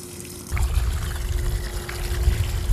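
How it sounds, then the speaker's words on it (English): Water from a budget Coodia pond pump dribbles out of the alternate nozzle, a steady close trickle and splash that starts abruptly after a quiet half-second and continues without a break. "So it's just kind of dribbling over the outside."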